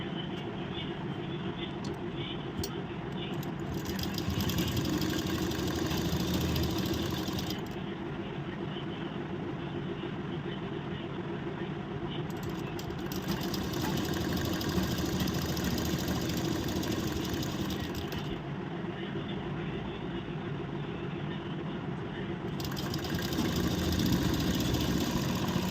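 A sewing machine runs stitching a blouse seam, a steady motor whir with fast mechanical rattle, in long continuous runs that ease off briefly between passes, close and fairly loud.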